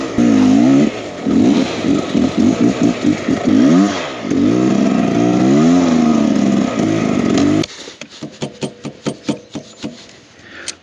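A Beta X Trainer 300 enduro motorcycle rides snowy Pacific Northwest trails, its engine revving hard and wavering continuously up close, then breaking into a run of sharp, rhythmic clattering bursts.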